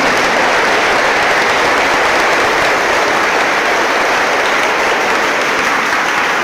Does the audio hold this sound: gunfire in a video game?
no